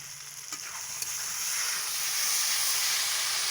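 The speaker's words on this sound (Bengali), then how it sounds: "দেখেছো বন্ধুরা কতটা সুন্দরভাবে কষিয়ে নিচ্ছে আমি" Spiced masala sautéed in hot oil in a pan for an egg and masoor dal curry, giving a steady, even sizzle and hiss with a couple of faint stirring clicks near the start.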